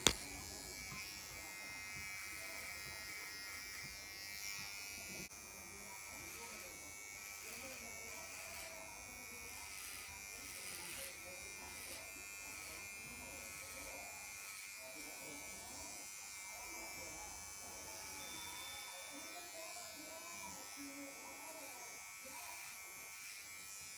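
A VGR V-082 hair trimmer runs with a steady electric buzz that holds through the whole stretch while a person talks over it.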